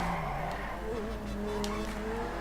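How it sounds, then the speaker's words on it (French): A customised car with a level-1 engine drifting in a racing video game, its tires squealing in a continuous whine over a constant, loud engine drone. "Cette voiture normalement est très bien pour drift."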